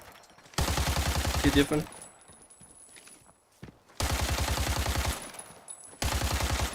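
Automatic gunfire bursts from the video game Arena Breakout, two long rapid strings of shots about a second each with a short burst between, loud and close, with someone talking briefly.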